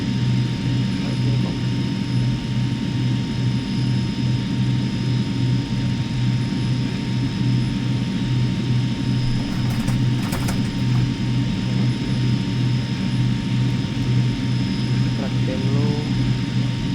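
MD-80 jet engines at climb thrust in a flight simulator cockpit, a loud, steady, even drone with a constant low hum, with voices talking over it.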